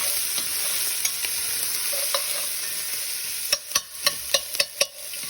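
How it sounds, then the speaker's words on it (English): Vegetables sauteing in a pan for red wine peppercorn short ribs give a steady sizzle, with a run of sharp clanks and scrapes from tongs stirring them near the end. "We're just going to drop our vegetables in and saute them."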